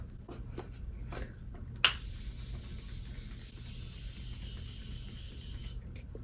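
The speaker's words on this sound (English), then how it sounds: "First, setting spray. Let's do Morphe" A single short spray of Morphe setting spray, a close, sharp burst of mist that keeps hissing steadily for several seconds against quiet room tone.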